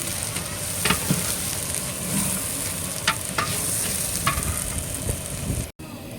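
Chicken curry with fresh grated coconut being stirred in a large pot for a big batch of about 15 kg of chicken, loud continuous sizzling with repeated scraping strokes of the spoon, close and without talk.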